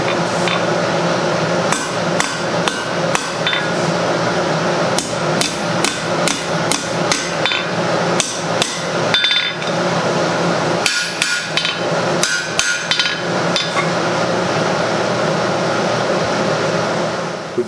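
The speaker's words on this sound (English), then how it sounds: "we'll take our hammer and hammer this down, and then tip it over and hammer it back" A hammer rings in steady, sharp blows against hot steel on an anvil while forging an offset on knee tongs, with brief pauses between bursts and a constant blower-like roar behind.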